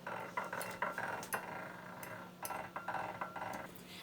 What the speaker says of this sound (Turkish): Yumurtalarımız, yumurtalarımızı kırdıktan sonra biraz da çırpalım.